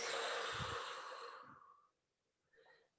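A deep inhale and a long, strong exhale during a yoga backbend pose, the breath rushing loudly and then trailing off into silence, with a softer breath following near the end.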